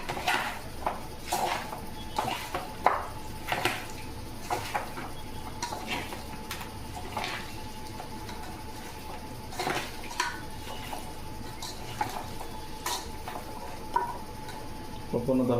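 Chili powder is stirred into chicken biryani in a pan, heard as repeated scraping and clinking of a spoon against metal at an uneven rhythm, close and moderate over a steady low background hum.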